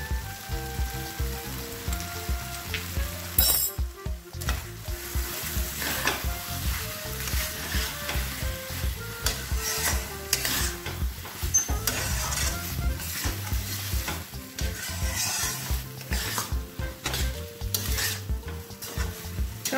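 Chettinad prawn curry gravy stirred in a pan over the flame, a steady sizzle and frying crackle with repeated spoon scrapes and clinks against the metal, close and continuous with no talking.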